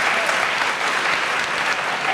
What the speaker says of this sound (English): Please hold the applause till the end